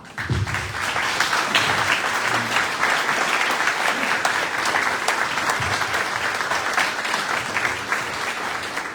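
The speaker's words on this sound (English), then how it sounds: "We would like to give you a round of applause." A room full of people at a teachers' awards evening clapping together, loud dense applause sustained for the whole stretch without letting up.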